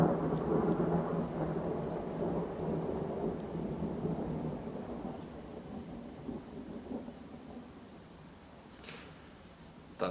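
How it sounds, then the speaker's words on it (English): A deep, rolling thunderclap rumbles loudly at first and then slowly fades into a long, low outdoor roar, with no talking. "Thunder."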